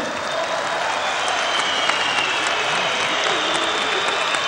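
Steady, dense applause from a large crowd at an Ankara political rally, loud and continuous without a break.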